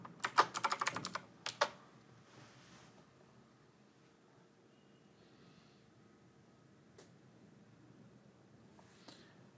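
A password is typed on a computer keyboard: a quick burst of crisp, close key clicks in the first two seconds, then a few isolated taps over a quiet room hiss.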